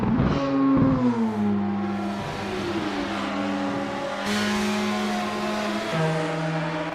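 Race cars in an SRA Group C championship race battle for position, a loud, close engine note holding steady then shifting pitch as gears change, with tyre noise beneath and no talk.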